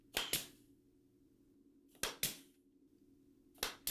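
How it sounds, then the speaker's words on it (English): A pneumatic nail gun drives nails into glued wooden bench parts in three bursts of two sharp, close, loud snaps each, with quiet gaps between them and no speech. "We use the nail gun to secure them in place."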